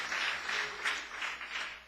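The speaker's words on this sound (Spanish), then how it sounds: "ríndele una fuerte ofrenda de aplauso." A church congregation at a Spanish-language sermon gives a brief, moderately quiet burst of applause that swells and fades in soft waves.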